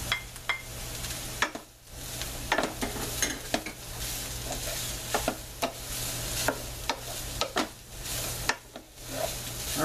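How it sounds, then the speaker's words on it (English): Chopped, already-cooked corned beef being stirred into onions and potatoes frying in a pan, with a steady sizzle under repeated scraping, clinking utensil strokes close by; no one talks. "Let's add a whole bunch of chopped up corned beef."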